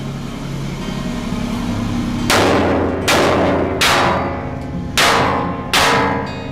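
Five sharp, loud hammer blows ring out on metal beside a dirt pan frog, evenly spaced about a second apart after a steady background hum, each strike ringing briefly before the next.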